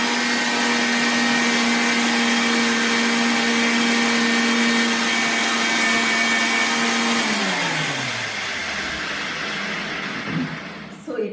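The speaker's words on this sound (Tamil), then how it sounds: "இப்போ எங்க வறுத்து வச்ச கொள்ளு, அந்த பருப்பு, புளி எல்லாத்தையும் இந்த மில் கிரைண்டர்ல வீட்லயே அரைச்சுட்டு இருக்கோம்." A home mill grinder pulverising roasted horse gram, dal and tamarind gives a loud, steady whine that holds for about seven seconds, then winds down in falling pitch as the motor slows and stops.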